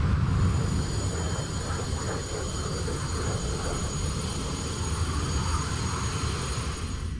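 Hawker Hunter jet in straight level flight in the DCS flight simulator, heard as a steady, continuous engine roar with a broad low rumble and faint high whine, unchanging throughout.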